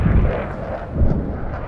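Artillery fire in a PC war game, deep rumbling booms rolling in close and loud, two heavy swells within a short span.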